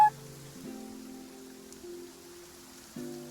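Rain falls in Genshin Impact as a soft, steady patter with no talking, quiet against low sustained musical tones that shift pitch partway through.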